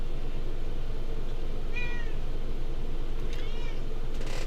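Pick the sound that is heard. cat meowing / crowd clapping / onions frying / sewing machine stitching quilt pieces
cat meowing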